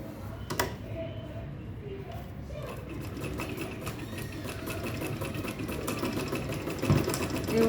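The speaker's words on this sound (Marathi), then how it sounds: "व्यवस्थित असं स्टिच करून घ्यायचं." A sewing machine stitches a traveling bag, running in a continuous close whir with a fast mechanical rattle that holds steady for the whole stretch.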